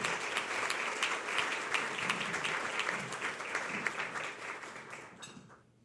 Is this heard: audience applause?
yes